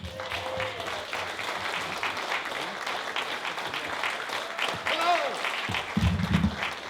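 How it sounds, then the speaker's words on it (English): Audience applause for a comedian at a comedy night in Lydney Town Hall, a steady, moderate wash of clapping from the crowd with some voices mixed in, swelling slightly near the end. "Thank you for that begrudging and underwhelming round of applause"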